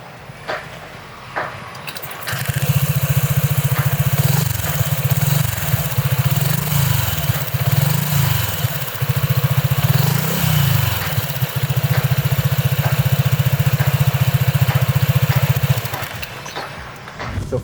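A Voge SR150GT 150cc motorcycle with its stock exhaust runs steadily and close by, a low, continuous engine drone with a few brief revs rising and falling midway, then cutting off near the end.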